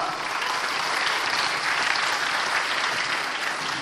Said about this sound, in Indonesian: Kita berikan aplaus untuk Pak Lo.